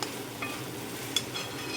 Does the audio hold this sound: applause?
no